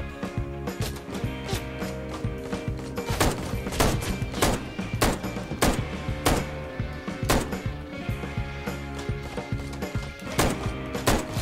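Repeated gunshots in the motorcycle action game Ride To Hell: Retribution, sharp cracks fired in an irregular rapid stream over game music and background noise.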